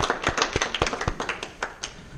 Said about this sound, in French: C'est bien, bravo, on peut l'applaudir.